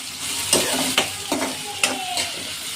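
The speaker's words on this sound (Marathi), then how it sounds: "कांद्याचा आवाज कसा आलाय." Onions fry in a pan for Konkani-style kaleji (liver) masala, a steady close sizzle broken by several scrapes and stirs of a spoon, no voices.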